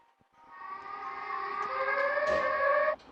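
A Siren Head animation siren wails upward in a rising tone, growing louder over a few seconds before cutting off abruptly.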